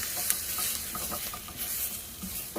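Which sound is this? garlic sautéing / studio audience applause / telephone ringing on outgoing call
garlic sautéing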